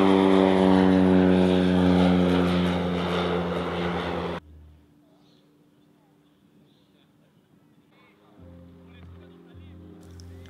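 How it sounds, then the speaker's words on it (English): Propeller planes near a skydiving club drone loudly with a strong steady engine hum that cuts off abruptly, leaving faint background noise before a lower engine sound returns. "I said to Ed, had he heard those planes?"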